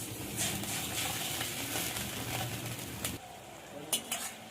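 Water added to frying onions in mustard oil in a wok, a steady sizzle with stirring scrapes that drops off abruptly to a softer bubbling, followed by a couple of sharp utensil knocks, no speech.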